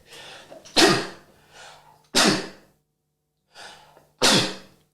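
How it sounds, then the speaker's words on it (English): Loud, close sneezes burst out one after another, each preceded by a short intake of breath, with quiet pauses between them. "I don't often sneeze while making a video"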